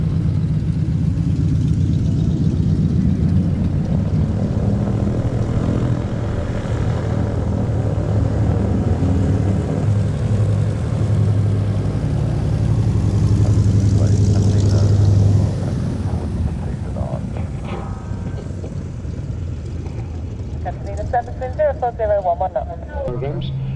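Lockheed Electra propeller aircraft taxiing at the Duxford air show, a steady low engine drone and propeller hum that swells and fades across the field, with a commentator's voice talking over it throughout.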